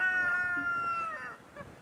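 A rooster on a farm gives a short, strained crow, a wavering nasal cry that lasts about a second, close by and over faint background noise.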